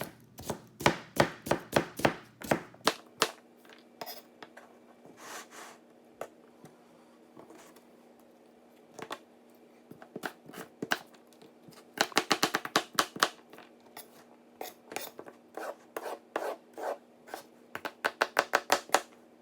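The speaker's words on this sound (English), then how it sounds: "The blade digs in really easily to whatever you're cutting. Slides through pretty effortlessly." A Japanese chef knife chops vegetables for a salad on a cutting board, giving crisp rapid strokes in bursts with short pauses between runs, close and clear.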